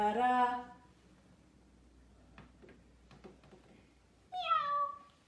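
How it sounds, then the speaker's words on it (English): A cat meows twice, with a clear, drawn-out call at the start and another after a quiet pause with faint clicks, both close and fairly loud. "And on that farm he had a"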